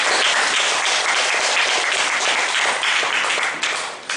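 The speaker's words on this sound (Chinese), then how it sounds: "请大家给他一个热烈的掌声。" An audience at a Bazi lecture in Singapore gives warm applause, a dense, loud burst of many hands clapping together that continues steadily before tapering off at the end.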